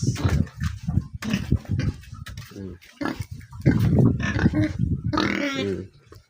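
Pigs in a pen grunting and oinking close by, with squeals rising now and then, a busy cluster of animal noises throughout.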